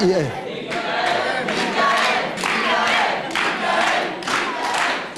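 A large crowd chants the name Michael in loud, rhythmic bursts about once a second at a Saint-Pargoire fireman's gathering in Hérault, close and sustained with a roar of voices throughout.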